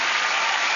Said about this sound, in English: There they are, all applauding her.